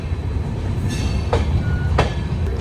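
Humsafar Express train rolling into Sri Ganganagar Junction, a steady low rumble of wheels on rail with a few brief squeals rising over it, heard close from on board.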